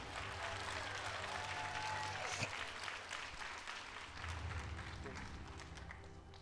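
Audience applause at a promotion ceremony, with a steady, fairly faint wash of crowd clapping running continuously beneath voices and hall noise.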